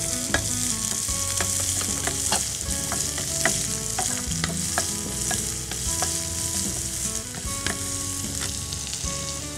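Chopped green chillies and spring onions stir-fried in a pan, with a steady loud sizzle and frequent sharp clicks of a spatula scraping and tossing throughout, no voices.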